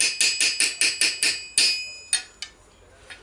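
A flat hammer strikes a metal rivet on leather and metal armor strapping, a quick even run of about eight sharp ringing taps followed by a few slower, fading blows, close and loud with no speech.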